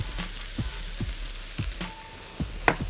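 Shredded carrot and cabbage filling for vegetable spring rolls sizzles steadily in a pan, a close, soft frying hiss broken by a few light scrapes and taps of stirring.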